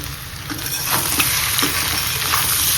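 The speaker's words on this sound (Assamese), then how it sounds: "এতিয়া মই আকৌ ইয়াত ফ্ৰাই কৰিম" Pork frying on a low flame with garam masala in a pan, a steady close sizzle with bursts of stirring and scraping across the clip.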